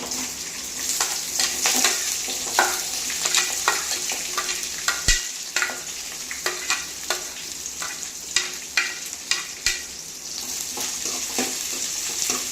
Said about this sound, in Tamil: பெரிய வெங்காயம் போட்டாச்சு. இது கொஞ்ச நேரம் அப்படியே நல்லா வதக்கட்டும்.